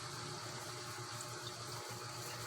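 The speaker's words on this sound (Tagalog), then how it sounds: "lagay ko na yung kakang gata." Thick coconut cream poured into a pot of dried anchovies and smoked fish, a steady liquid rush heard up close for a few seconds, with no talking.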